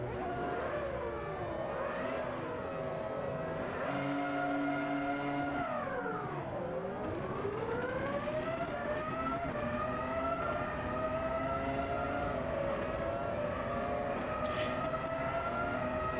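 Formula V10 Gen 1 race car in the racing game Automobilista 2 at Silverstone, its high-pitched V10 engine screaming close and loud throughout, with repeated upshifts, rising revs and a sweeping drop and climb as it brakes and accelerates.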